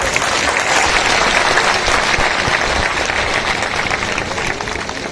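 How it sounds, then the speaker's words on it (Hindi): Loud, sustained applause from a large crowd at a political rally in Rewa, cheering the elders, thick continuous clapping near and steady throughout, tapering slightly toward the end with no speech over it. "एक बार जोरदार तालियां हमारे सभी बड़े बुजुर्गों के लिए"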